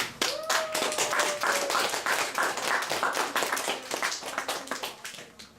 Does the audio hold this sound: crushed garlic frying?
no